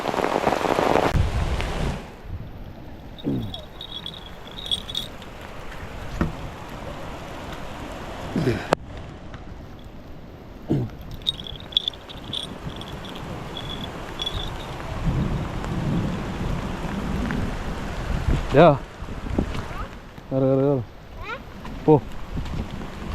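Rain falls steadily outdoors with low rumbles that suggest thunder, while people talk intermittently over it.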